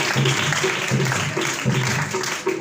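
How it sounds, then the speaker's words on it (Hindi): A church congregation claps loudly in a steady rhythm, strong regular bursts repeating under a sustained low musical drone. "जोर से तालियां बजा के खुदा से"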